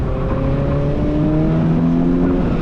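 A Mazda Miata NC driving hard on a race track, heard from inside as a loud, steady engine drone whose pitch climbs smoothly under acceleration, with no talk.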